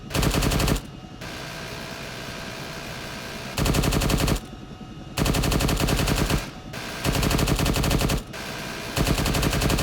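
Sustained automatic gunfire in ArmA 3 crew training, loud bursts of machine-gun fire alternating with slightly quieter stretches of continuous shooting for the whole stretch, with no voices over it.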